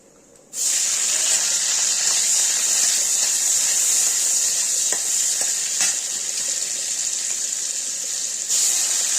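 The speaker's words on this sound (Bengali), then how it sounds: "জিরে ফোড়ন দিয়ে দিচ্ছি।" Cumin seeds hit hot oil for tempering and burst into a loud, steady sizzle about half a second in. The hiss holds up close and constant to the end, with no talking.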